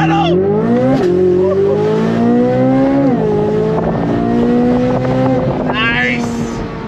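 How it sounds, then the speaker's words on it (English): A car pulls away at full throttle, its engine revving hard and climbing in pitch with quick paddle-shifted gear changes, loud and close throughout. "Hold that throttle down, release brake, on throttle."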